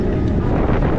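Strong outdoor wind buffets the microphone on the Crimean coast, a loud continuous low rumble that fills the whole second with no talking.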